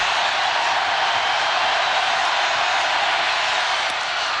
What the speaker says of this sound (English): And now you can hear that crowd